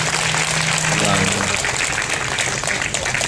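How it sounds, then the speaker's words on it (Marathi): Crowd clapping for the singers and musicians at a kirtan held for a birthday celebration, a dense, steady patter of many hands throughout, with a voice speaking briefly at the start. "एका गायक वादकांकरता टाळी वाजवा, जरा जोरात वाजली पाहिजे टाळी"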